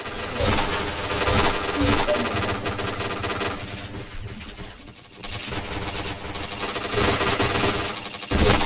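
Rapid bursts of gunfire from the PointBlank shooter game, heavy and sustained with brief pauses, layered over in-game music and effects.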